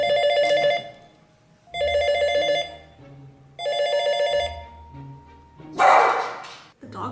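A toy telephone rings in three repeated electronic bursts with short gaps between them, fairly loud and close. A sharp noisy clatter follows near the end, with a dog barking faintly in the background.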